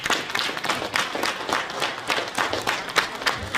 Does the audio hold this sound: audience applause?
yes